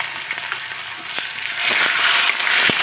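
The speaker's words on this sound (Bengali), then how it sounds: "মশলাটাকে এখন ভালো করে কষিয়ে নেব।" Ginger-garlic paste, turmeric powder and chili paste fry in a pan for a potato-cauliflower curry, a dense close sizzle with scattered stirring clicks that grows louder partway through.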